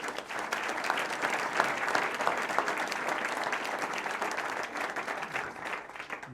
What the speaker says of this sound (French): Venez me rejoindre et puis on peut l'applaudir en même temps.